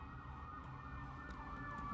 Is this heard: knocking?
no